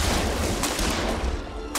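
Dense gunfire and explosions crackle and boom continuously from a World War era battle in the real-time strategy game Iron Harvest, a loud, sustained fusillade with no clear gaps.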